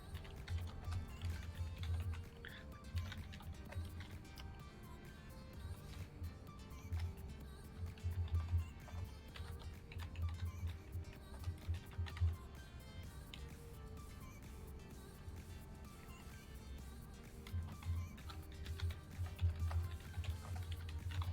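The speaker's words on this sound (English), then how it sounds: "Really typing away over there." Steady, fast typing on a computer keyboard during a co-op session of the factory game Satisfactory, with dense continuous key clicks throughout, faint and close, and no talk over it.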